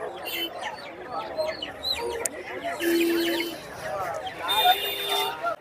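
Chickens and roosters cluck and squawk amid chirping birds, with people talking in the background of the busy Poigai poultry market in Vellore, India.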